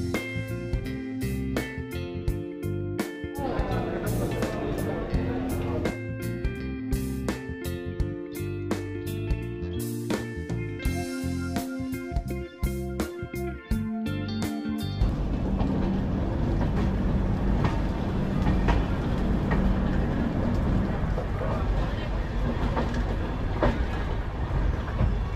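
Dhauli Express passenger train running on rails, a steady rumble with rhythmic clickety-clack over rail joints, shifting to a denser, continuous roar partway through, heard from on board.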